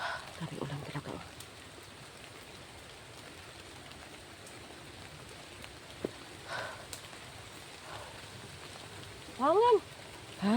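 Heavy rain falls as a steady, even wash of noise, with brief voices and sharp chirpy sounds breaking in near the start and end.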